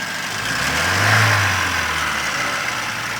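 A Ford Escort 1.6 engine runs close by with the clutch pressed and a transmission knocking fault; its steady mechanical drone swells into a brief rev and then settles back, with no voices.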